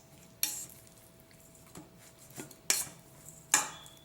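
Chicken pieces tossed in a bowl with paprika and salt seasoning, heard as a handful of sharp scraping clatters and soft rustles spaced irregularly, close and fairly quiet, with no talking.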